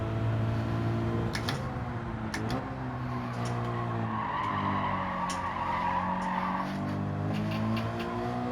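Video-game car in Gran Turismo 7 breaking into power oversteer, its rear axle stepping out under too much throttle: a steady engine drone with screeching tire squeal and skidding rising and falling throughout.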